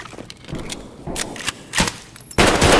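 Gunfire from a video game firefight in a Russian gun game, with bursts and single shots cracking at uneven intervals, ending in a loud sustained burst near the end.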